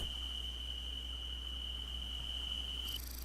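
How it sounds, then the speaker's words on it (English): Steady, continuous chirping of crickets from xEnviro ambient sound in X-Plane 11, a high sustained trill holding over a low constant hum before cutting off near the end. "that's the actual crickets and stuff"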